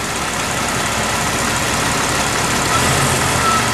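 A stock 4x4 Jeep engine idles under the open hood, a loud, steady close rumble with a constant hum that holds unchanged throughout.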